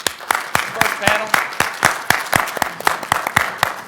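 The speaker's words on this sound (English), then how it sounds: "A round of applause for the first panel." An audience claps for a conference panel, a steady burst of applause lasting a few seconds with sharp individual claps in a medium-sized room.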